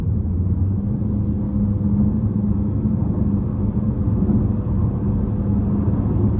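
A 2022 Chevrolet Malibu RS with a 1.5-liter turbocharged four-cylinder and CVT accelerates as a steady, muffled low engine drone heard from inside the cabin, even in level without distinct shifts.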